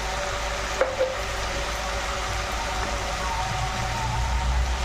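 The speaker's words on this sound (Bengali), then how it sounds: "তো আমি মশলার সঙ্গে ভালো করে কষে নেবো আলুটা আর বরবটিটা একসঙ্গে।" Potatoes and green beans sautéing with spices in a pan, a steady, continuous sizzle with a brief clink of stirring near the start.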